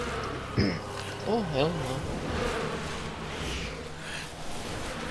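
Bees buzzing in the Resident Evil 6 video game: a dense, continuous insect drone like a swarm close by, with a person's excited voice breaking in over it.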